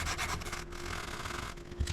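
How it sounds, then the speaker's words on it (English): Steady wet rubbing of a fine sanding block over a fiber optic light surface with a little water, a continuous close scrubbing texture with slight pauses and a brief bump near the end. "this is the sanding block, a little bit finer"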